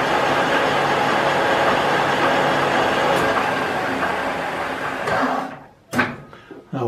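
A metal lathe runs steadily in reverse after single-point threading with the half nut engaged, a continuous mechanical whir that slows and drops near the end as the brake is applied, followed by a couple of short clunks.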